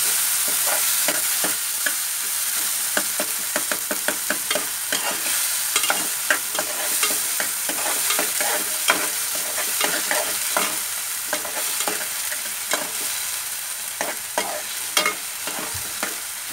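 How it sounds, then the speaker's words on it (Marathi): Onion and tomato fry in a pan for Maharashtrian ghevda bhaji, with a steady loud sizzle under rapid, continuous spatula scrapes and taps against the pan, close up and without voices. "त्यामुळे कांदा आणि टोमॅटो लगेच टाकायचा।"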